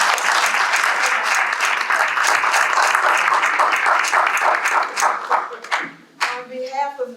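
Sustained audience applause fills a city State of the City address, steady clapping from a large crowd that thins out near the end as a voice begins speaking over it.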